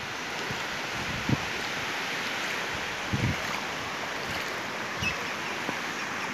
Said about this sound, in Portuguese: ver se eu consigo filmar a cachoeira lá